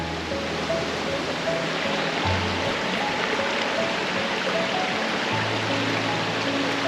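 A stream and waterfall rush steadily and loudly near a bridge, a continuous close wash of flowing water with no breaks.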